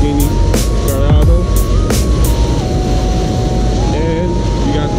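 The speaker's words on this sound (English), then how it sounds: "let's move away from the fan. It's real loud." A loud fan roars as a steady broadband rush at a car meet beside a Lamborghini Gallardo and a Ferrari 458, with a tonal hum wavering through it and people talking over the noise.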